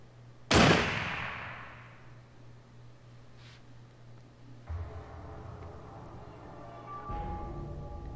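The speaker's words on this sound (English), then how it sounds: "the door opens at the sound of a gunshot" A single loud gunshot fires in the video game Zero Time Dilemma, a sharp close blast with a decaying tail, followed by quieter mechanical rumbles and a faint hum, with no talk.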